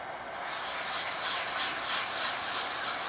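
A plane sole being dressed on a diamond sharpening stone, giving a steady, close scraping rasp with faint rhythmic back-and-forth strokes, alone and fairly quiet.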